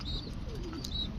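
Chila pigeons coo softly and low in a loft, faint murmuring calls under a steady background hum, with a couple of thin high chirps.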